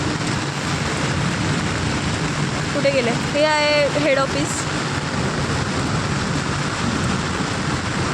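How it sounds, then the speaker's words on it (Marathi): Heavy rain pours in a steady, dense hiss throughout, with a voice speaking briefly over the downpour. "आमच्या इथे किती पाऊस येते ते बघा किती पाऊस आहे"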